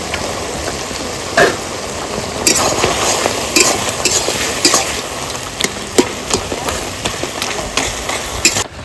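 Two rohu fish heads fry in a pan, crackling and popping over a continuous sizzle, with sharp spatters and stirring clinks coming up close and loud and no one speaking.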